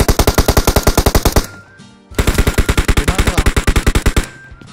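Automatic gunfire from a Beryl rifle in PUBG Mobile rips out in loud, close, rapid rhythmic bursts, with one brief gap and then a second long burst.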